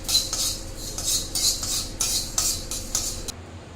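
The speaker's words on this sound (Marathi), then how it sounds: "दाण्याला गॅस बारीक करायचा आणि 1 मिनिटभर भाजून घ्यायचे." Peanuts dry-roasting in a pan on low heat, stirred with a metal spoon: rhythmic scraping strokes roughly every half second, close and crisp, over a faint background hum, with no talking.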